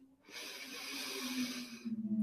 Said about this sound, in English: I want you to breathe in